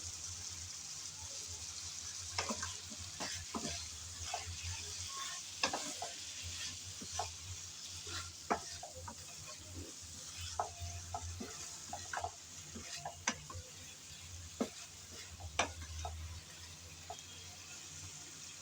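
Watermelon rind curry sizzling in a pan while it is stirred and mixed, a soft steady fry under scattered scraping clicks of a spoon against the pan.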